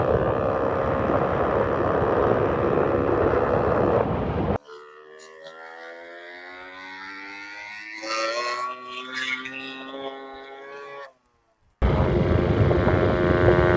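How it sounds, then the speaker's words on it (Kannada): A Yamaha RX 135 two-stroke motorcycle engine runs with a loud, raspy, buzzing drone near the start. A quieter stretch follows before the loud engine sound returns at the end. "ಆನ್ ಅಲ್ಲಿ ಬೈಕ್ ಸೌಂಡ್ ಯಾವ ತರ ಬರುತ್ತೆ ಅಂತ ನಿಮಗೆ ತೋರಿಸ್ತೀನಿ"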